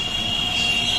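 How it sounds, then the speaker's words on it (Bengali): The Black Diamond Express pulls out of a station on the Howrah to Dhanbad route, a steady rolling rumble with a faint high squeal of wheels, heard briefly and continuously without speech. "তো এখান থেকে ট্রেন ছেড়েও দিল।"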